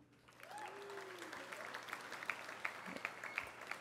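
Audience at a graduation dinner breaks into scattered, modest applause that builds after a brief voice, with individual claps standing out, fairly faint and roomy.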